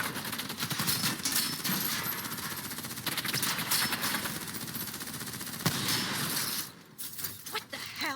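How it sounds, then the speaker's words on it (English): Dense, sustained automatic gunfire from Call of Duty Black Ops 3 fills the scene, bursts overlapping almost without pause and dipping briefly near the end. "Who's shooting?"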